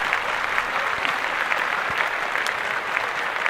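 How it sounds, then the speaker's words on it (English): Applause in a podcast studio, a steady crackling wash of clapping for a few seconds, fairly loud and unbroken, with no speech over it. "clap that up"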